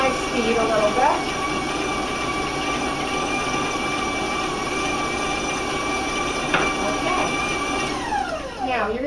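An electric stand mixer whirs steadily as butter and sugar cream together, the motor holding a continuous, fairly loud drone with a rising pitch sweep near the end as the speed is turned up; a voice speaks over it.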